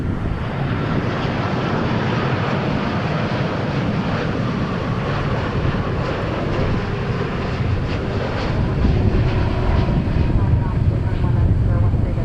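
A Royal Jordanian airliner lands on runway 18 right at DFW Airport, its engine roar steady and loud throughout with a rising swell near the end, wind buffeting the microphone.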